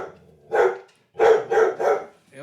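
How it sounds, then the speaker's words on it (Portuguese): Dog barking several times in separate bursts, one bark then a quick run of three, close and loud, followed by a short whine. "Meu cachorro, né?"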